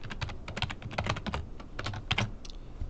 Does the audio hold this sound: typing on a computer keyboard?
yes